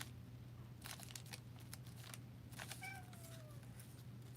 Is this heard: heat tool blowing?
no